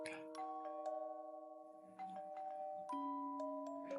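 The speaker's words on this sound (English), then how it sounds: "The doorbell rings, ruining the atmosphere." A doorbell in the video game Love and Deepspace rings out as clear, sustained two-tone chimes, repeated several times in a quiet setting.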